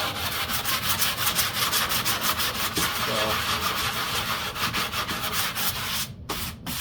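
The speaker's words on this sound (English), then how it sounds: "So it'll take a little sanding" Steady abrasive rubbing of sandpaper across the wooden surface of a model P-51 Strega airframe being stripped to bare wood before fiberglassing, continuous and close, with a short pause near the end.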